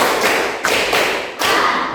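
Students in a classroom group perform a rhythmic cheer clap after presenting, three close, loud bursts of claps in a patterned sequence with short gaps between them.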